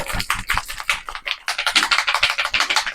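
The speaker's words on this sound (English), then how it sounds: "Give this a proper good shake. Wait till we hear the ball clicking." Rapid rattling clicks from a shaken spray can, the mixing ball knocking in a steady fast rhythm, close and fairly loud with no talking.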